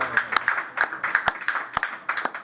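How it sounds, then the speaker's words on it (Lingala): Audience applause at a Congolese music event, a fairly loud burst of sharp, irregular hand claps from a small nearby crowd, heard without talk. "Il mérite aussi des acclamations."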